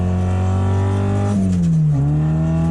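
A modified sports Volkswagen Beetle engine revs hard under acceleration, a loud, close buzzing roar that climbs in pitch, drops briefly at a gear change, then climbs again, with no talk.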